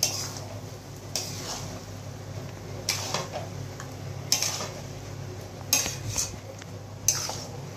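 Rice stirred with turmeric in a metal pot for Kashmiri dom polau, a low steady background broken every second or so by clinks and scrapes of a spoon against the pot, close by and with no voices.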